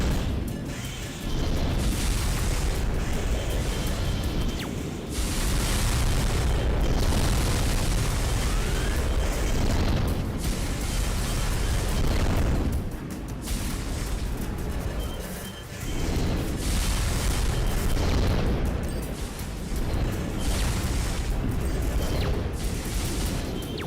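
Missile explosions in Armored Core 2: Another Age, a sustained barrage of loud booming blasts and rumbling bursts in repeated waves, with brief lulls between salvos.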